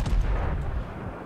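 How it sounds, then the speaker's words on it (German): Ship guns fire a full broadside in World of Warships: a heavy cluster of deep booming blasts at the start that rolls off into a rumbling decay, loud and close, with no talk. "Okay, volle Breitseite diesmal."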